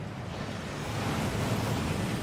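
A waterfall in the Hogwarts Legacy video game gives a steady, broad rushing roar of falling water, continuous and fairly loud, swelling slightly, with no voices.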